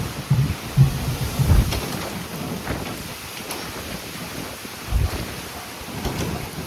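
Strong windstorm with thunder during sudden bad weather outside a gate, heard as heavy rumbling wind buffeting the microphone with low thundery bursts near the start and again around five seconds, no talk.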